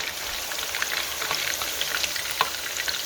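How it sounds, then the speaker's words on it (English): Spicy garlic chicken wings fry in hot oil without batter, giving a dense, steady sizzle and crackle with scattered sharp pops, heard close and on its own. "Spicy garlic wings going in. Like I said, I'm gonna fry them naked until like halfway done."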